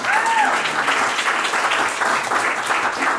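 Audience applause fills a business launch event room, steady and full for a few seconds of dense clapping, loud and close with no talk over it.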